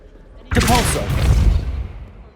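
A Depulso force spell cast in Hogwarts Legacy, a sudden loud magical burst with a booming impact that swells and then decays over about two seconds.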